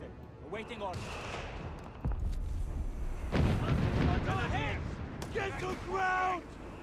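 Artillery fire in the strategy video game Company of Heroes 3, with a few deep booms and rumbling impacts under constant fast commentary from a male caster.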